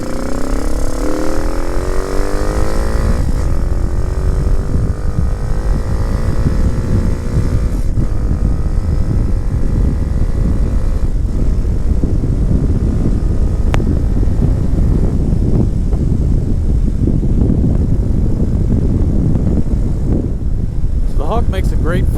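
A 2019 RPS Hawk 250 motorcycle engine under riding load, lean-running with a catalytic converter, revs rising and falling through gear changes amid loud wind buffeting, with a rider's voice occasionally over it.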